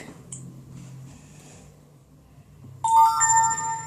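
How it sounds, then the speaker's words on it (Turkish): A phone notification chime sounds near the end, a bright ringing tone rising suddenly over a quiet low hum and faint background noise. "Dur şu bildirimleri kapatayım bari."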